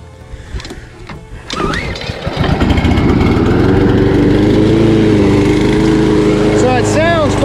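A brand-new push lawn mower, compared against a Snapper and a Toro, cranks with a few pulls, then catches and settles into a loud, steady engine drone with a slightly rough carburetor note, close by.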